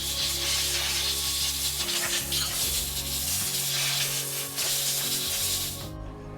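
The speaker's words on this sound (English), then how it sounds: "you can use the air blow gun on the side to help dry the spray gun" Compressed air from the side blow gun of a Unic Edition35 spray gun cleaner drying a rinsed spray gun, a loud steady hissing blast with low machine hum underneath that cuts off abruptly near the end.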